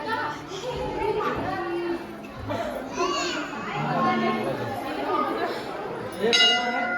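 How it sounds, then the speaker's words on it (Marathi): Children and adults chatter and call out continuously at a temple, and a bright metallic temple bell rings out clearly near the end over the voices. "घंटी वाजवा घंटी वाजवा"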